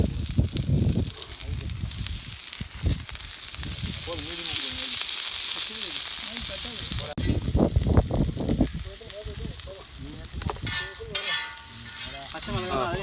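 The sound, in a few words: onions frying in oil for duck curry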